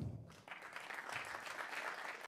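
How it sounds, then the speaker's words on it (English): A conference audience applauds a speaker with dense, sustained clapping that swells in quickly, holds steady and stops abruptly at the end. "give a big round of applause for Timo Nußbaum"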